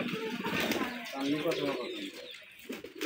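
Pigeons cooing nearby, soft low throaty coos mixed with rustling and possible wing flaps, with people talking over them at close range.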